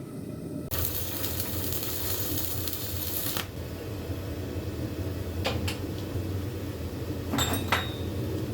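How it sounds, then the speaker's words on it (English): A 6013 stick electrode, 2mm thick and running at 50 amps, crackles and hisses steadily as it welds an oak leaf wall art piece, with a few sharp metallic knocks near the end. "the stick I'm going to be welding with is the 6013. This is a 2mm rod or 5/64. Going to be running on 50 amps"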